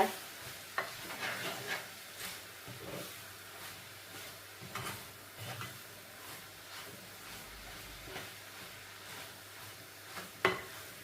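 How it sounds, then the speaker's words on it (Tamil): Coconut filling for Batticaloa-style mothagam kozhukattai stirred in a pan, with repeated scraping strokes and soft sizzling, the spoon knocking the pan a few times, loudest at the start and near the end. "இது ஒரு அஞ்சு நிமிஷம் நல்லா மிக்ஸ் பண்ணுங்க"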